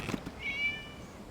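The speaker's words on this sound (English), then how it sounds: "It was just a cat." A single short, mid-pitched cat meow from a video game, fairly faint against a quiet background.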